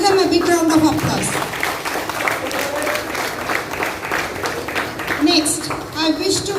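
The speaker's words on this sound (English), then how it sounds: "Give them a big round of applause" Audience applause for award recipients at a school founder's day ceremony, a dense steady patter of many hands filling the room, with a voice speaking over it at the start and again near the end.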